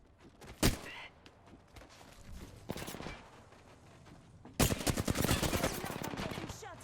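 Enemy gunfire in the battle game Apex Legends: a sharp shot near the start, a further burst midway, then a loud sustained rapid-fire volley over the last two seconds.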